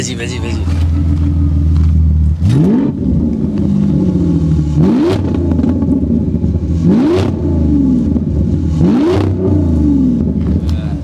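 An Audi A8 L TFSI-e plug-in hybrid engine runs loudly with a steady rumble, rising in several revving surges; a voice may be mixed in beneath the engine.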